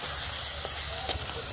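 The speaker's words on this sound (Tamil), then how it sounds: "அதையும் போட்டு நல்லா வதக்கிட்டு அது கூட மஞ்சள் பொடி, தனியா பொடி, குழம்பு பொடி, இது உப்பு, இதெல்லாம் சேர்த்து நல்லா கிளறி விட்டு" Garlic sautéing in a pan with turmeric, coriander powder, curry powder and salt being stirred in, a steady close sizzle with a couple of faint scrapes, no talking.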